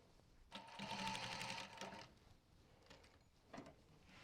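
Sewing machine stitching a bumbag: a quiet, fast, even whirr of needle strokes that runs for about a second and a half, then stops, followed by a few faint mechanical clicks and a short later burst.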